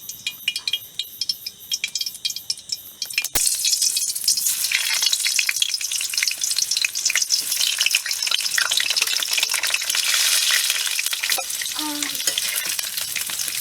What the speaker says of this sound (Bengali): এবার আলুগুলো একটু তেলে ভেজে নেবো।